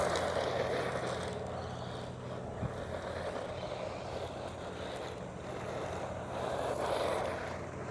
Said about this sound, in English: We've got the helicopters coming over.